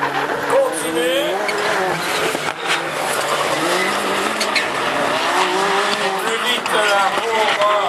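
A Peugeot rallycross supercar races around a circuit with a loud, revving engine and squealing tires, under continuous excited commentary.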